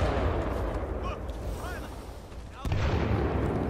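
Bombardment in the video game Titanfall 2: a steady rumble of booms and gunfire with a sharp louder burst near the end, with talk heard over it.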